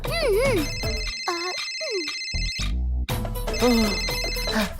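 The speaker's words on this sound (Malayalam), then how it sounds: "ഓ, ഗീത കോൾ ചെയ്യാ." A telephone ringtone for an incoming call in an animated cartoon plays as a loud, repeating electronic melody, with animated voices and music around it.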